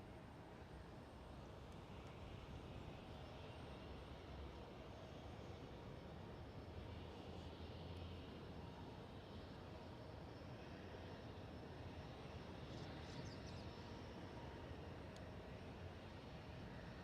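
A LOT airliner rolls along a taxiway at Amsterdam Schiphol, its engines a faint, steady distant whine and rumble lasting the whole stretch, with no talking.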